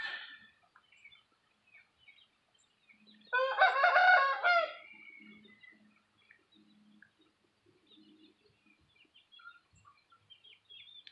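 A rooster lets out a single clear, harmonic crow of about a second, fairly close, while softer clucks and faint background sounds scatter through otherwise quiet surroundings.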